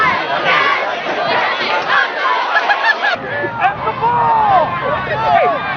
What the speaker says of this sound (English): the crowd cheering them on, and reacting to the game.